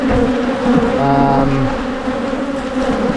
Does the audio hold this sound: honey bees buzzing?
yes